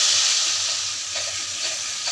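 Mustard-poppy seed and green chilli paste sizzling in hot oil with nigella seed tempering, a steady close hiss of frying with faint stirring, no voices.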